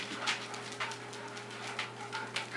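A small dog pants in quick, soft breaths with faint whimpers mixed in, close by and fairly quiet against a low steady hum.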